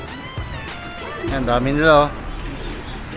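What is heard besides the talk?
pigeons of Lietar line cooing in a breeder's loft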